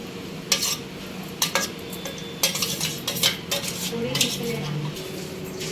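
A spoon scrapes and clinks against a steel bowl several times while a thick mango pickle mixture with salt and chilli powder is stirred, with soft mushy squelches between the strikes.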